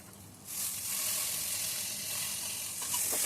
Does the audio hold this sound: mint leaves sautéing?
yes